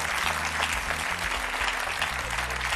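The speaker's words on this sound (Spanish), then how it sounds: "Fuerte aplauso." A studio audience gives a strong, dense round of applause on a Spanish television show, loud and steady throughout with a low musical bed underneath.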